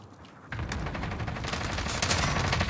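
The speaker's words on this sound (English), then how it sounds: "Shooting going on ahead of us." Distant-sounding gunfire in a multiplayer shooter game, starting after a quiet half-second and building into steady overlapping rapid shots that grow louder toward the end, no talk.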